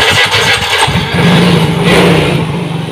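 A Yamaha Soul GT motorcycle engine cranks briefly, then catches and settles into a loud, rough idle close by. The idle is uneven and keeps running steadily to the end.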